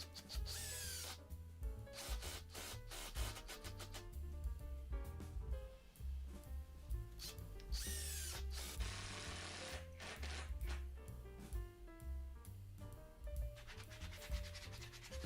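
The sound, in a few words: driving long screws to secure a vice mount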